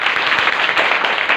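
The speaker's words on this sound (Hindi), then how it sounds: "अरे वाह बजाओ ताली" Students in a classroom clap together in a steady, dense burst of applause that is close and fairly loud, with no talk over it.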